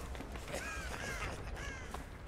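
Cawing crow in a horror video game: a few harsh, wavering caws spaced across the clip, heard at moderate level over a constant noisy game ambience, with no talk.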